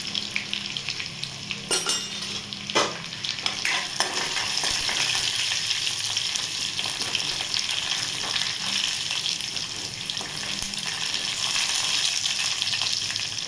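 Cumin and mustard seeds fry in hot oil for a drumstick-pod curry, a dense continuous sizzle with a few sharp spatula knocks and scrapes against the pan early on, steady and close.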